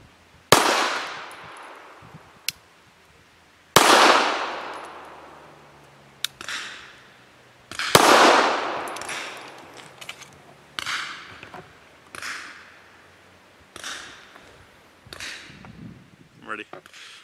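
Shots from a Serbian-made Zastava CZ 999 pistol firing heavy 158 grain subsonic round-nose FMJ loads at a target, about a dozen sharp reports spaced a second or two apart, each decaying into echo.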